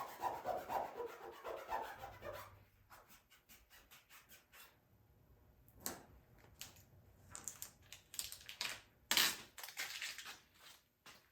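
A military marking decal being rubbed down onto a vehicle surface, giving quiet, close scratchy rubbing strokes in irregular bursts, some sharper swipes toward the end, with no talking.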